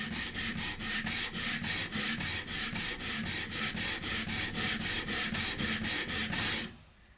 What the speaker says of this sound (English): I'm gonna just do a little bit more sanding